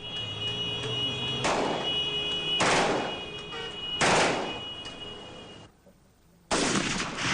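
Guns being test-fired in the street outside an arms shop, heard as four loud, reverberant bursts of gunfire a second or more apart, each with a long echoing decay, and a brief quiet gap before the last one.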